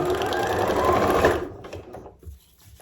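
A sewing machine running a seam on scrap fabric strips, a fast steady whir for about a second and a half that stops, followed by faint handling sounds.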